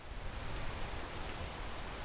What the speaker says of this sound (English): Oh, this rain ruins everything.